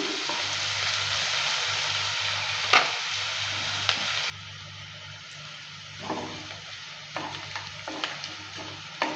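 Onion and garlic with chopped green chilli fry in a pan under steady sizzling, with a spatula stirring and scraping at intervals, close and fairly loud.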